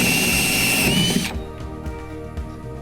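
Power drill boring a hole through the deck of a Hobie Mirage Passport 12.0 fishing kayak, a loud steady whine for just over a second that cuts off abruptly, leaving quieter handling noise and faint knocks.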